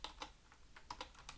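A computer keyboard is typed on in a short, quiet burst of about eight crisp key clicks at an uneven rhythm, close and alone.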